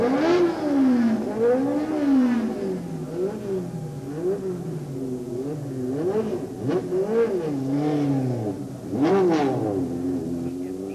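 A Formula 3 race car on track revs up and down repeatedly, the engine note climbing and falling through gear changes, loud and fairly close, with no talk.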